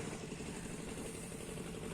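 A boat engine chugs steadily on the Titas river, a faint, even mid-low drone with no change in pace, heard alone.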